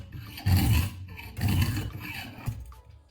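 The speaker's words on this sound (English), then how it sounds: "Move the stone slowly and evenly across one side of the blade." A sharpening stone lubricated with WD-40 is drawn across one side of a knife blade, giving two slow, close, raspy scraping strokes followed by a fainter third pass.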